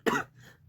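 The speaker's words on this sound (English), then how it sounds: "2 seconds, I have to cough." A single sharp cough, close and fairly loud, followed by a softer trailing breath.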